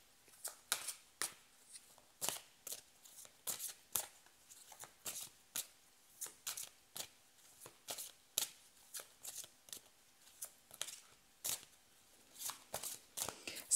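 Tarot cards are shuffled before a draw: a quick run of crisp, riffling card flicks repeats in short bursts at close range, with no voice over it.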